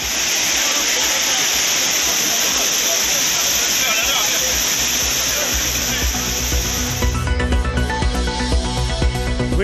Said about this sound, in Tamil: குற்றால அருவிகளில் ஜில்லென்று ஆர்வரித்து கொட்டும் தண்ணீர்.